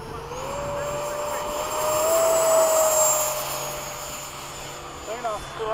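F-5 jet engine at full power during a formation takeoff at Bayside, a loud, steady whine with rising high tones and a constant roar, heard from close by with no talk.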